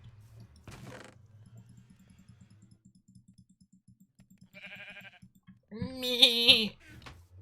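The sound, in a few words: person imitating a sheep bleating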